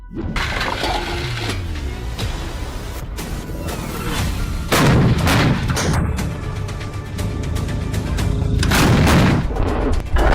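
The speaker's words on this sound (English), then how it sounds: "The wheeled self-propelled howitzer Bohdana with a 155mm caliber strikes at a distance of 40 kilometers" Bohdana 155mm wheeled self-propelled howitzer firing, heavy booming blasts with crackling roar and rumbling echoes, several loud discharges spread through a dense, noisy mix.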